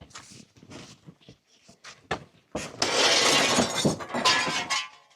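Glass shatters as a cabin is torn down during land clearing, with scattered clinks and knocks building into a long, loud crashing cascade of breaking panes and debris, close by.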